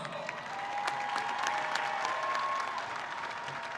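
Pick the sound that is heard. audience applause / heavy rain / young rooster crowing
audience applause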